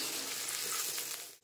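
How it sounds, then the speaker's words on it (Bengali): Cashews and raisins frying in hot oil, giving a steady, close sizzle with no talking, cut short at the end. "ওই তেলের ভিতর কাজু কিশমিশ ভেজে নেব।"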